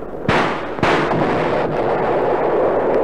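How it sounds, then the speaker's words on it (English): Grenade explosions are staged as a sound effect for a World War II radio war drama. Two sharp, loud blasts land in quick succession and trail into a sustained rumbling roar. "Toss some more of those grenades at the Japs."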